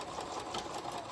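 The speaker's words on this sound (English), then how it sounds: "My loud sewing machine." A loud sewing machine from around 1962 runs in a continuous whirring, rattling drone, close and steady for the whole moment, with no voices.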